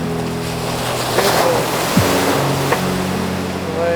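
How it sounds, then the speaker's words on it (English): Sea waves breaking on Clachtoll beach, a white sand beach in Scotland, a loud continuous surf wash with wind buffeting the microphone and a few brief knocks. "Waves. Splashy, splashy, splashy."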